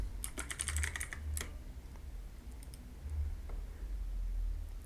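Computer keyboard typing in a quick burst of close, crisp keystrokes at the start, then a few isolated key clicks over a low steady hum, with no talking.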